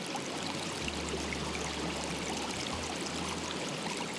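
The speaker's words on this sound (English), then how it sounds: "you hear just the birds and the insects and maybe the water from the waterfall" Steady broadband rush of water pouring from Cascade Falls in Orange Grove, Patapsco, a continuous even roar with a faint low hum underneath and no talking.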